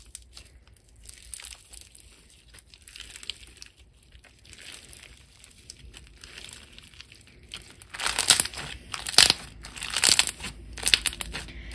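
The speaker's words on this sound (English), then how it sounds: "you just sort of pull around the edges and mix the beads" Beads get worked into a thick, slushy slime by hand, giving faint squelches at first that grow into louder crunchy, crinkling bursts toward the end, with no voice over them.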